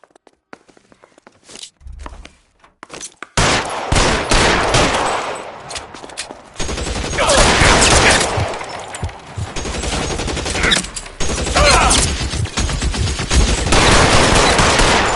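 A shootout in the game L.A. Noire, with loud bursts of rapid gunfire and repeated shots, first a few scattered cracks and then sustained volleys close by, with shuffling steps between them.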